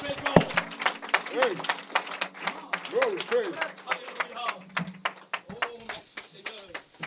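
A church congregation in Ivory Coast claps in an irregular patter of sharp hand claps, moderately close, while voices speak over it.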